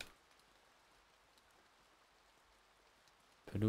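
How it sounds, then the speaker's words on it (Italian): Rain patters softly in the video game Impostor Factory, a faint, even hiss that holds steady before a short, louder burst of sound at the very end. "Piove ancora."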